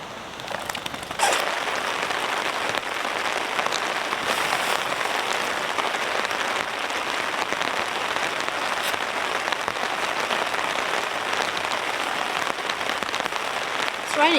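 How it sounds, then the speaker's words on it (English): Heavy rain falls on a tent and tarp at a campsite, a dense, constant hiss of pattering drops close by, with a brief voice near the start. "It's raining quite hard now."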